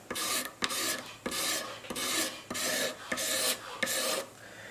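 A razor blade scrapes a hardened patch level on a 1930s–1940s Recording King guitar, seven or eight even rasping strokes in a steady rhythm, close and clear with no talk.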